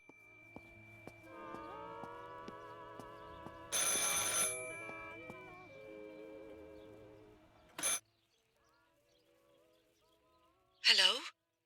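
A phone in Martha Is Dead rings with a steady electronic tone over quiet, wavering music for several seconds. Short bursts of noise follow, then near silence.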